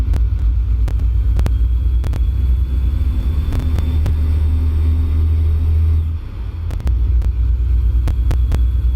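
A heavy Peterbilt semi truck engine rumbles loudly and builds up as it accelerates, with intermittent clicks and a brief dip before it roars on.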